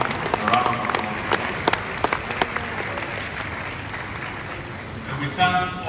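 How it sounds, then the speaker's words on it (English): Attendees at a large diaspora summit in Ghana applaud the event's sponsors, a broad, continuous wash of clapping from a big crowd with a few sharper nearby claps and voices rising near the end. "A round of applause."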